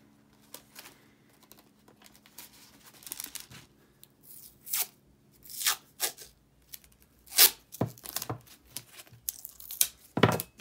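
Pieces of tape are pulled and torn off a roll in quiet, close surroundings, giving a series of sharp rips and crinkles of varying length spread irregularly through the stretch.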